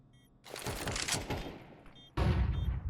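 Bursts of AK rifle fire in a Counter-Strike match: a rapid volley of close, loud shots, a short pause, then another heavy burst of gunfire.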